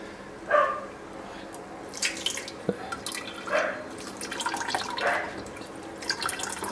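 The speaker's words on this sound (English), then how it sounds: "Just rinsing" Brewing grains rinsed under hot tap water give a soft running-water hiss with irregular splashy bursts and drips, fairly close, with no speech over it.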